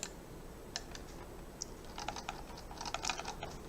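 Typing on a computer keyboard while placing text in the GIMP image editor: a few scattered clicks early, then a denser burst of quick, close keystrokes in the second half, with no voices.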